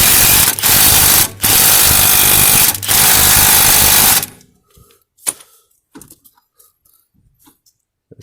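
Pneumatic impact gun tightening a new axle nut on a Honda CR-V, firing in four loud, harsh bursts over about four seconds with brief pauses between, followed by quiet, faint clicks and small handling sounds.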